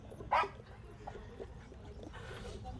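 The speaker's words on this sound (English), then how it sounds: "That is the weirdest bark from a dog." A dog gives one short, odd, high bark early on, then a few faint yips and whimpers over low background hum, somewhat distant and quiet.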